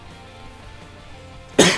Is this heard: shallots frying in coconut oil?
no